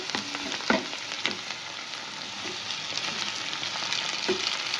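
Steady frying sizzle as pasta is stirred around a pan, with occasional clinks and scrapes from the utensil.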